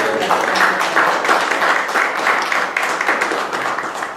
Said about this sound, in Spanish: quiero pedirles que recibamos con un fuerte aplauso a la doctora Blanca Alicia Mendoza Vera